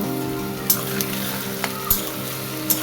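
Chopped tomato and ginger frying in a pan, a soft steady sizzle with several sharp clicks of a spoon against the pan.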